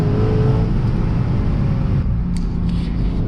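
Lexus RC F V8 engine while driving, a strong rumble that revs briefly near the start and then eases off, settling into a quieter steady drone with a few faint clicks.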